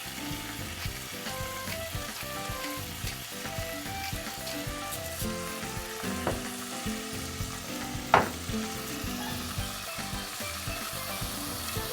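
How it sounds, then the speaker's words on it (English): Seasoned beef browning in a pan gives a loud, continuous sizzle and crackle with occasional stirring clatter and a sharp tap near the end, no voices. "So you want the beef to get really nice and brown."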